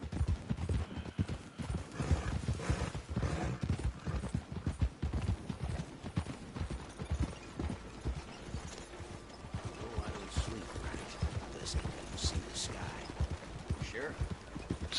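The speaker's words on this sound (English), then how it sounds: "this is my 2 characters riding on the back of 1 horse" A horse carrying two riders in Red Dead Online gallops on, its hooves pounding in a fast continuous rhythm with creaking tack, a whinny, and voices talking over it.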